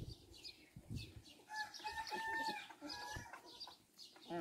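Silver Wyandotte chickens cluck and chatter in a busy coop, several birds overlapping in short calls with an occasional brief crow-like note, moderately loud and close throughout.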